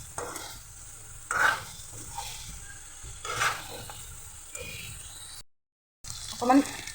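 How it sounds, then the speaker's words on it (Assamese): Chicken pieces in a curry being stirred in an uncovered pan, with a low steady sizzle and scraping strokes that rise every couple of seconds, heard close with a brief gap of silence near the end. "এতিয়া অলপমান লৰাই দিম।"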